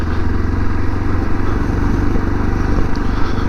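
A motorcycle engine drones loud and close throughout a quick ride, its steady low rumble pulsing rapidly without a break and with no talk over it.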